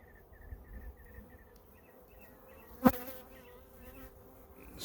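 Honey bees hum softly around an open hive during an inspection, a faint continuous buzz with a single sharp knock partway through and no talking.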